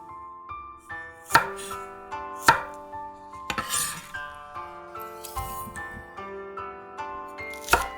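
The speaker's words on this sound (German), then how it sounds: "In grobe Stück schräg schneiden." A knife chops green asparagus into coarse diagonal pieces on a board, with several sharp, separate cuts and light clinks at an uneven pace, close up and without talk.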